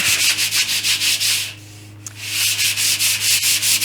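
Final sanding of an epoxy coffee table: a power sander rasps across the surface in rapid rhythmic strokes, pausing briefly mid-way before resuming, loud and close.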